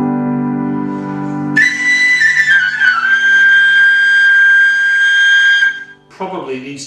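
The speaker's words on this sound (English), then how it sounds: "I think that this whistle without the elastic band" A McManus tin whistle with its elastic band removed plays a bright, sustained note that bends slightly and holds for several seconds, loud and close, after a low sustained tone and before a brief spoken phrase.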